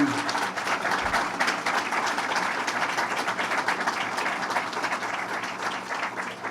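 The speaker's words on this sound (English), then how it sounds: "Let's give him a big round of applause" Applause from the audience at Governor Cuomo's announcement of the Datto, Inc. expansion, honoring McCord; steady, dense clapping fills the whole stretch at an even level.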